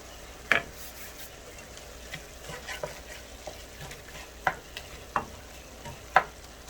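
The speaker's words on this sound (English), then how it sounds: "As this continues to cook, I'm just going to keep opening it and chopping up that meat so it could cook as even as possible." Ground beef sizzles steadily in a pan with garlic powder and salt, a constant frying hiss broken by several sharp taps and scrapes as the meat is chopped apart, with no talking.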